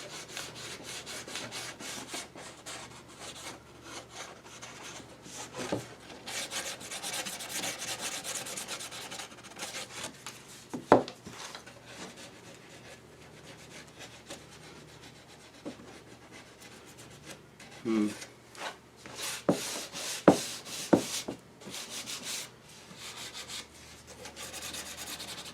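Hand sanding along the dark edge of a copper beech wood tray: a continuous scratchy rubbing, close and steady, with a few sharper knocks and scrapes scattered through.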